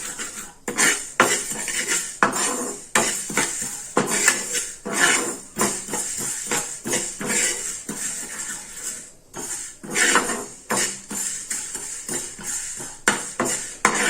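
Fenugreek seeds dry-roasting in a pan for kombdi vade flour, stirred with a metal spoon that clinks and scrapes against the pan in repeated quick strokes, close and clear.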